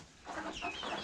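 A few short clucks from backyard chickens, a flock of hens with several roosters, close and fairly quiet against a soft outdoor background.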